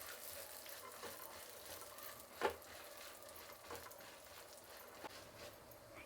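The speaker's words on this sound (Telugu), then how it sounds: "ఇప్పుడు ఉద్దిపప్పు, అలాగే శనగపప్పు, ఇప్పుడు ఇవి కొంచెంసేపు వేయిస్తాము" Peanuts, urad dal and chana dal fry in a pan with a faint, steady sizzle, a few soft stirring clicks and one sharper knock near the middle.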